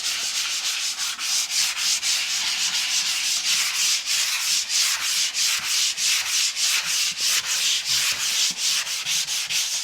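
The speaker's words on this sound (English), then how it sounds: "So let's sand this down here." Sandpaper rubs back and forth over dried drywall joint compound in quick, even strokes, a loud close rhythmic scratching that repeats steadily throughout.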